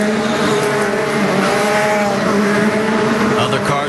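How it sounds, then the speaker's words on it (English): IndyCar race cars at the 2012 Indianapolis 500 scream past in a loud, sustained high-pitched engine whine with a slight pitch shift as they go through, with commentary faintly beneath. "Other cars that are going on through."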